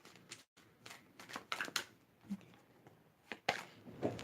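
Tarot cards are shuffled in a quiet room, several short riffling bursts and soft slaps spaced irregularly, close and fairly faint with pauses between.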